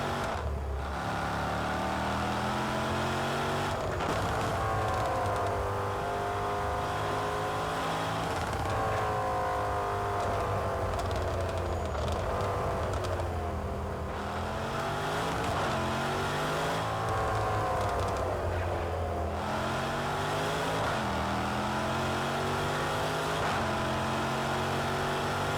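A race car engine revs hard around Cadwell Park in the racing game Project Cars 2, climbing and dropping through repeated gear changes with a constant loud drone.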